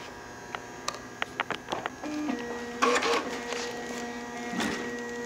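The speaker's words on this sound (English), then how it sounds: "This is the A4+M heat shrink printer cutter perforator." A cab A4+M heat shrink printer, cutter and perforator runs close by, giving a few sharp clicks followed by a mechanical whirring buzz with brief surges, and no voices.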